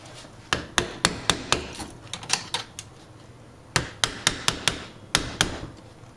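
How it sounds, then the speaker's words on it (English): Sharp metallic taps and knocks while bending metal tabs on a 1929 Victor R-32 radio chassis, a quick series of close, bright strikes in clustered bursts with short pauses. "See if we can get these tabs bent up."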